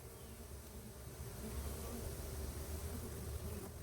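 A dense, steady hum of many honeybees buzzing close by at an open hive frame, a low continuous drone without pauses or speech.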